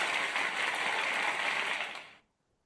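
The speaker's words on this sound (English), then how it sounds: "You guys were able to hear the audience clapping?" Audience applause plays through speakers as a steady, dense wash of clapping for about two seconds, then fades quickly into silence.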